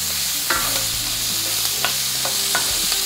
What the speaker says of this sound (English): some celery, and carrots. And we're gonna saute these for about 7 minutes.